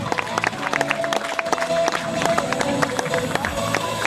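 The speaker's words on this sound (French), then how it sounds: "Allez, on peut les applaudir." Applause for a martial-arts baton demonstration at an outdoor park festival in France, a dense crowd clapping steadily for several seconds with scattered voices and a little cheering mixed in.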